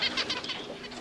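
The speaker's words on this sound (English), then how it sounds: "You didn't tell me about the birds." Pet birds kept indoors make quick, bright chirps and a soft flutter of wings, nearby and moderately loud, in a short burst.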